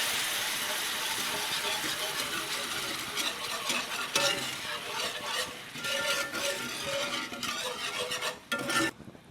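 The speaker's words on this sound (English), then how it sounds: "I'm going to pour the sauce in here. Don't want it to burn, so I'm keeping it moving." Sauce sizzles in a hot pan while being stirred, a steady frying hiss broken by repeated scraping strokes of the utensil, close and moderately quiet.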